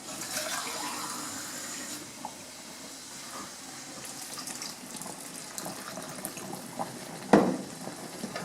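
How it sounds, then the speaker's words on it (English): Water runs and splashes into a cooking pot in a soft, continuous trickle, ending in a short louder splash. "I'm going to add a little bit more water to it."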